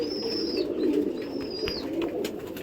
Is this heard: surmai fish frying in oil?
no